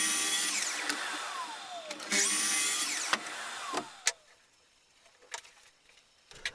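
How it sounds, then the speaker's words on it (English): A miter saw cuts an 18mm MR MDF offcut to width, the blade whining up and biting through the board in a couple of short bursts, each followed by spin-down, with clicks and knocks of handling between cuts. "then cutting this to width on the miter saw, and then trimming a pair of uprights to the same height"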